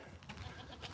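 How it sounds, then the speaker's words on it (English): Goats in a pen on a farm give a brief, faint bleat over a steady outdoor background, with no voices. "We got a few goats over in the pen over there."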